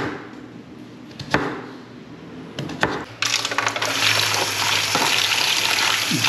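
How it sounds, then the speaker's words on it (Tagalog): Vegetables set to soak in water, with a few sharp knocks and clinks, then a steady splashing rush of running water that continues to the end. "Babad lang po natin sa tubig."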